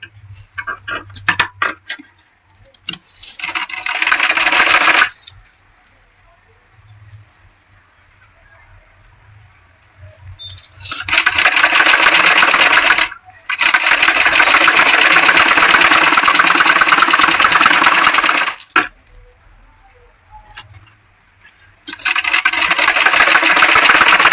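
An electric sewing machine runs in long loud bursts, its needle chattering rapidly while stitching along a double-folded blouse patti, with quiet pauses and handling clicks between the runs.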